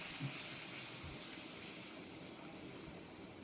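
Water hits a hot pan of mustard hilsa masala and gives off a soft, steady steam hiss that fades slightly over a few seconds, quiet with no voices.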